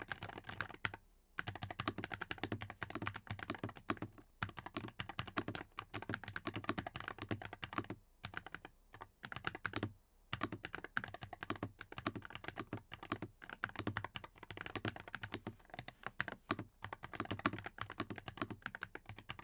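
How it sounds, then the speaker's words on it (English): Continuous typing on a Royal Kludge C87 mechanical keyboard, a busy stream of clacky keystrokes with a few short pauses, close and clear, no voices. "It's not too clicky, it's more of a clack, which is very satisfying for both gaming and typing"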